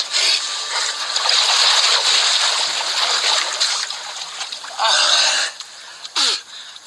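A person dips into a pool of dirty, smelly water, sending up loud splashes and sloshing close by, with a few short bursts of splatter toward the end and brief talk.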